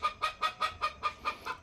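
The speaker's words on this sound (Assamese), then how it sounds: "এয়া চাওক এইবিলাক মোৰ মুৰ্গী" Local chickens cluck in a quick, evenly spaced run of about eight short clucks, close by and fairly quiet.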